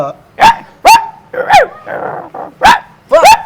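A voice mimics a small puppy with a string of short, high yips, about five or six close together, with a soft whine between them.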